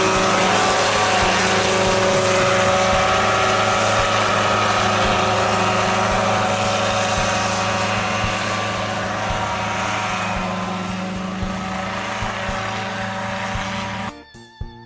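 A homemade crop-spraying helicopter gives a loud, steady engine drone with a constant mechanical whine throughout, then cuts out abruptly near the end.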